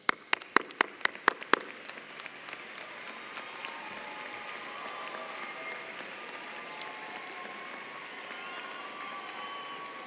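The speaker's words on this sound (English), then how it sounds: "Graduates, please stand and give a round of applause to your community of supporters." Graduates at a university commencement ceremony stand and applaud their supporters, beginning with a few sharp, separate claps that swell into a broad, steady wash of applause from a large crowd in a big hall.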